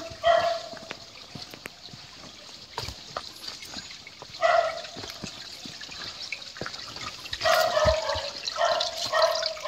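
A flowing stream (creek) runs through a 23-hectare coconut farm as a steady, fairly close wash of water. Several short bursts that resemble a dog barking rise above it.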